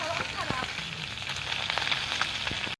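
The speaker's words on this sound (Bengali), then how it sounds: "তো কড়াতে আমরা মাছ দিয়ে দিচ্ছি।" Small fish fry in hot oil with a steady, dense sizzle and scattered pops and crackles, close up and fairly quiet.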